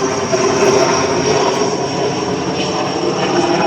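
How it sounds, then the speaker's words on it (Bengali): A helicopter flies low overhead in hilly country. A loud, continuous engine and rotor drone holds steady throughout, with no speech. "এখানে অনেক নিচ দিয়ে হেলিকপ্টার যায়।"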